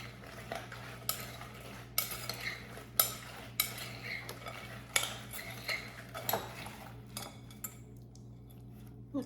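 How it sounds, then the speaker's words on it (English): Pecans being stirred to coat them, a spoon clinking and scraping against the dish in repeated uneven strokes, close and moderately loud, fading to softer taps near the end. "And then we're gonna stir that up and coat the pecans."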